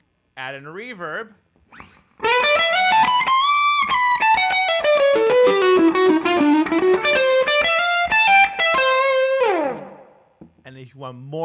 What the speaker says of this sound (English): Add in reverb.